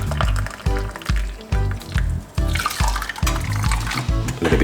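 Hot water being poured into a vessel for a coffee and lemon drink, a bubbling, gurgling pour in repeated bursts, close and fairly loud.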